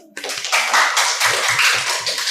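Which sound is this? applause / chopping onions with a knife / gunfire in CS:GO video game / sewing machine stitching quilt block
applause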